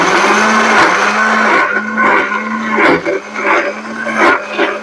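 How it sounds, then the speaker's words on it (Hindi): A kitchen mixer grinder whirs loudly and steadily as it grinds lemons with water, its motor pitch dipping and surging in regular pulses as the load shifts. "तो मैं इसको पीस लेता हूं मिक्सर में।"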